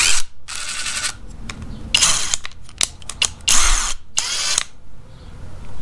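Craftsman CMCF820 and Skil ID573901 impact drivers run in loud, close bursts of rapid mechanical hammering with short silences between runs.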